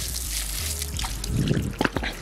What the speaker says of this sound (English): So we're gonna wash the dragon stone off here.